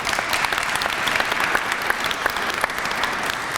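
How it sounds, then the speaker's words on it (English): Steady applause from the audience at a Cleveland housing investment fund press conference, dense clapping sustained throughout at close range with no talking over it. "Let's give those developers a round of applause if we can."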